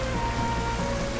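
Steady rain falls in a dense, continuous hiss on surfaces, loud and unbroken throughout with no voices.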